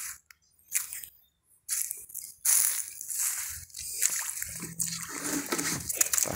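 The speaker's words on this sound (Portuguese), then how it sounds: "É só esse riachinho aqui mesmo." A small clear stream in rural Brazil, water splashing and sloshing close by in uneven bursts with brief quiet gaps, the sound varying in loudness from moment to moment.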